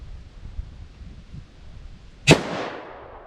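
A single sharp, loud blast from a .357 Magnum revolver with a 4-inch barrel firing Federal HST rounds outdoors, rising abruptly out of quiet and trailing off in a fading echo.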